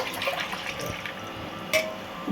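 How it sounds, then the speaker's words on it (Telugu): Water pours steadily from a glass into a container of sugar for syrup for a couple of seconds, a soft continuous splashing with a brief clink near the end. "నీళ్ళు, దీని నిండా తీసుకున్నాను నీళ్ళు. గ్లాసు నిండా పోస్తున్నాను పాకానికి."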